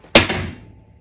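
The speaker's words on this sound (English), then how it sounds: "That was my phone. This is the second time it has fallen today." A phone dropping to the floor indoors gives one sharp, close thud with a brief rattle that quickly fades, heard alone without talk.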